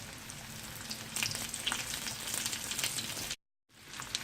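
Breadcrumb-coated fish fingers fry over low heat in a pan, giving a steady, close crackling sizzle throughout with a brief complete dropout near the end before the frying resumes.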